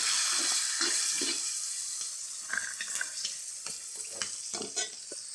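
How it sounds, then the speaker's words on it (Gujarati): Chickpeas tipped into hot oil for a street-style chana chaat tempering, cooked outdoors at a village campsite, give a steady, close sizzle and crackle, with scraping stirs and brief clatters through the middle and end. "હવે આપણે ચણા ચાટનો વઘાર મારીએ। તો ચણા નાખીએ।"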